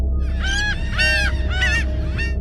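Four loud, nasal gull calls in a row, each a drawn-out laughing cry, close and clear over a low background hum.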